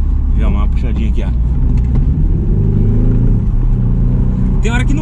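A BMW Z4 with stock exhaust drones loud and close under revving during a drift attempt, a steady heavy engine rumble with rising tones, while people talk over it.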